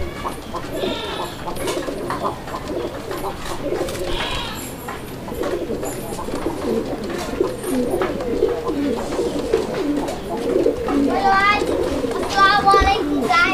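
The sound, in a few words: pair of red Bombay pigeons cooing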